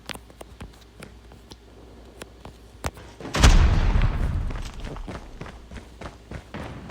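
In Call of Duty Mobile, a single heavy Shorty shotgun blast booms midway and rolls off into a lingering rumble, with sharp footsteps and small clicks scattered before and after; no voices.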